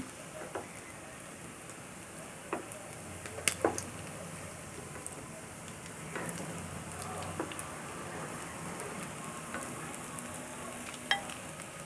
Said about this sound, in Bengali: আমাদের পাকোড়াগুলো প্রায় ভাজা হয়ে গেছে